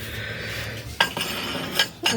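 Dishes and cutlery from a tableware set clink and clatter in a few quick knocks against a steady background hum, close by in a shop.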